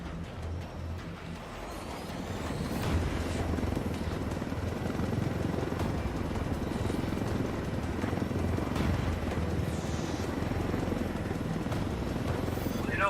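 A helicopter flown in the video game Ghost Recon Wildlands, a loud, steady rotor-and-engine drone that swells after the first couple of seconds and then holds constant throughout.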